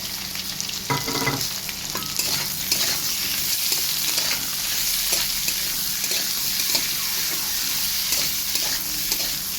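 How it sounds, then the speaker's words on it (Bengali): Sliced onion sizzles steadily in hot oil with lightly fried potatoes in a pan, a continuous close crackle with occasional scraping stir sounds and no talking. "পেঁয়াজটাকে দিয়ে ভালো করে ভেজে নেব।"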